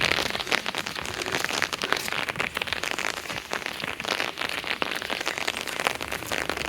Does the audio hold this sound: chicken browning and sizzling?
no